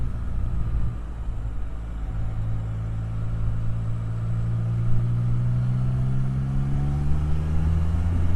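Can-Am Spyder three-wheel motorcycle engine while riding, a steady close rumble whose pitch climbs gradually as the revs build, with wind noise underneath.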